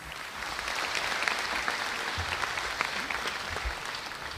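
Audience applause at a birth centenary function in Jammu, a steady dense wash of clapping that holds at an even level with no talk over it.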